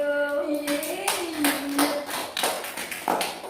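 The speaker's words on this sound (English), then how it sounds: "Give applause for all of you." A handful of people clap in scattered, irregular bursts, close by, while a voice briefly sounds underneath.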